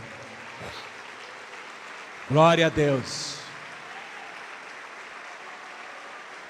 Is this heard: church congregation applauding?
yes